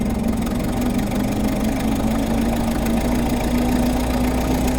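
A 1927 Ford Model T engine labors uphill with retarded spark, a steady loud low rumble with a sustained droning hum and a rough, knocking texture throughout.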